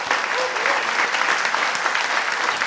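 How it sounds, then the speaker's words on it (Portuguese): Dense, continuous applause from an audience at a panel on philanthropy and the fight for decent work, loud and even throughout with a faint murmur of voices beneath. "Eu vou quebrar o protocolo e pedir uma salva de palmas."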